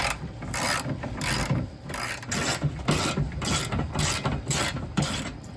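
A ratchet works on the exhaust bolts of a BMW M340i, giving a rapid, close clicking in quick repeated bursts of about half a second each, with short gaps between strokes.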